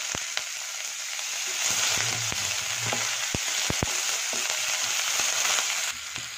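Chopped onion frying in oil for an Andhra-style cabbage fry makes a steady, moderate sizzle close by, dotted with occasional sharp clicks and taps of a spoon.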